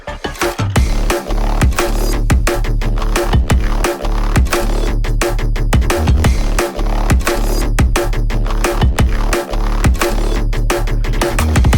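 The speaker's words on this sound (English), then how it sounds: "this pluck bass is made completely with Foley" Electronic track with a layered low bass and a punchy pluck bass built entirely from Foley recordings, pulsing steadily and loud under a busy rhythmic mix for the whole stretch, with no voices.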